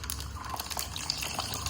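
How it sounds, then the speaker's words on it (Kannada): Water poured into a biryani marinade of ground paste and yogurt, a steady close splashing trickle with small drips, no talk. "ನಾವು ನೀರು ಒಂದ್ ಸ್ವಲ್ಪ ಜಾಸ್ತಿ ಹಾಕ್ಬಿಟ್ಟು, ಬಟ್ ನೀವು ಕಮ್ಮಿ ಹಾಕೊಳ್ರಿ"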